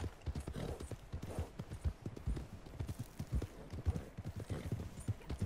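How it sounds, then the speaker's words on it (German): Steady clip-clop of horse hooves trotting in the video game Red Dead Redemption 2 Online, in a quick, regular rhythm, close and fairly loud, with no voices over it. "Hier läuft ein Pferd."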